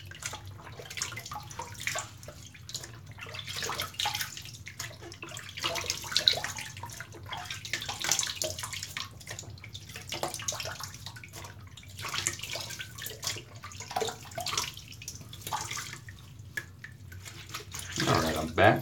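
Tap water runs steadily into a sink for wetting the cheeks before shaving, a soft continuous splashing stream with brief surges, close and fairly quiet, ending with a small clatter.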